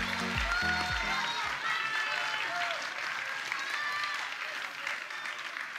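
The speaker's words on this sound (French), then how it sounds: "Et applaudissez les arbitres." Audience applause for the referees at a large Beyblade X tournament in France, a steady wash of clapping from a crowd filling the space, with a few low voice-like tones near the start.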